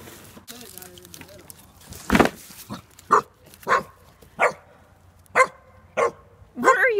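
A dog barks repeatedly outdoors, about seven sharp barks spaced roughly half a second to a second apart, fairly close and loud, with people talking nearby in the background.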